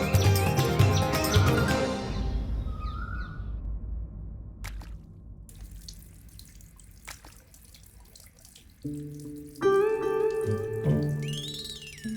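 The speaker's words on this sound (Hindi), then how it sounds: "आप इन पर झूठे पानी के छींटे डाल रहे हैं।" Water splashes onto a person in a period comedy scene, with a loud wet burst at the start that quickly fades into quiet. Faint knocks and tonal sounds follow later.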